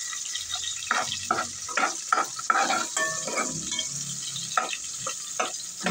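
Garlic and onion frying in hot cooking oil in a pot, a soft steady sizzle under repeated scraping stirs from a utensil against the pot, close and fairly quiet.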